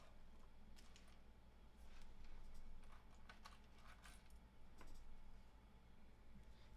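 Household keys are jingled and handled close to a microphone, giving a string of soft, scattered metallic clinks and rattles over a low, steady background hum, with no talk.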